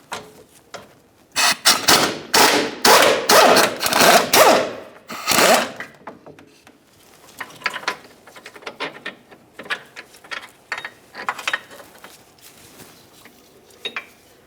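An impact wrench loosens an 18mm mounting bolt on a Ford Flex rear subframe, several loud, rapid rattling bursts followed by quieter intermittent ratcheting and clicks as the bolt comes free.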